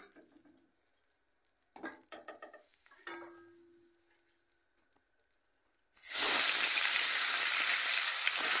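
A few light clinks and scrapes of a utensil in a wok, then a sudden loud, continuous sizzle as fish hits fresh hot oil and keeps frying steadily to the end.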